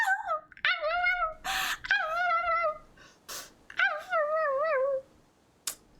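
Cerberus, the three-headed hound in the video game Hades 2, lets out a run of high whimpering yips and whines, several wavering cries in quick succession that sound close and clear, with brief bursts of noise between them.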